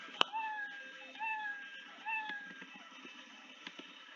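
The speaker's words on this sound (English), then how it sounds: "it's gonna forever say meow because it is already touching white" Cartoonish cat meow sound effect from the Scratch coding program repeating in a steady loop, three clear meows in a row, each a short clean rising-then-falling tone played on its own.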